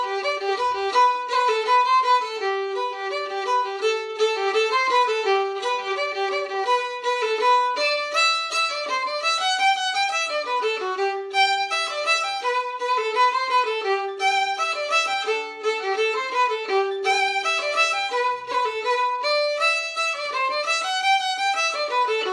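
A solo fiddle plays a flowing tune in a straight classical style with vibrato and no traditional ornaments, the bowed notes sustained and continuous, close and clear with no talking.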